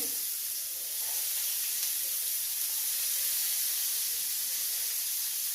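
Sliced onion hitting hot oil in a pan, giving a steady, fairly loud broadband sizzle and hiss that holds evenly throughout with no talking.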